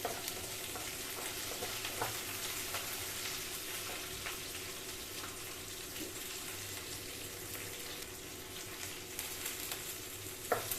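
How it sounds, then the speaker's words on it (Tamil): Ridge gourd peel chutney ingredients, including garlic, dried red chillies and lentils, sizzle softly in a pan over a low flame, a steady quiet frying hiss with occasional faint stirring scrapes and no talking. "இப்போ தீ குறைச்சி நல்லா வதக்கலாம்."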